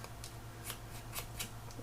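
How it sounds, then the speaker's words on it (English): Scissors snip and tatter paper edges for a Christmas mini album, making several quick crisp cuts in an uneven rhythm, close up and alone over a low hum. "I'm going to just tatter these edges first"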